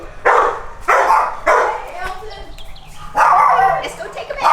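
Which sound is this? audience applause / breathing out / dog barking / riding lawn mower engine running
dog barking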